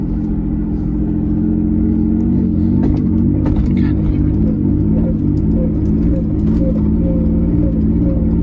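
A 2003 Mitsubishi Eclipse GTS drives through a turn with a faulty clunk, its engine and road rumble droning steadily and loudly close by throughout, with faint knocks and rattles over the drone.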